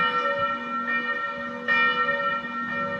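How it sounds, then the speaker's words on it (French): Village church bells ring steadily along a Swiss mountain road leading toward the Grimsel Hospice and Grimsel Pass, with sustained overlapping tones and periodic fresh strikes at a moderate distance. "On peut dire qu'on entend l'église du village."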